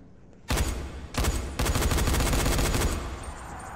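Heavy rapid gunfire from an oversized weapon in the zombie game Dying Light, loud, dense bursts starting abruptly, a brief pause, then a long sustained volley before cutting off.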